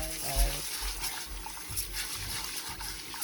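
Rice being rinsed in a bowl of water while preparing Korean popcorn tofu, with a brief splash and slosh near the start, then a low continuous watery swirl and trickle close to the mic.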